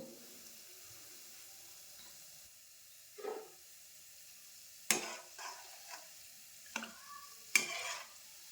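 Gulab jamun frying in a pan of oil on low heat, with quiet stirring, a few sharp scraping clinks of the spoon, and a faint bubbling sizzle underneath, heard up close with no talking.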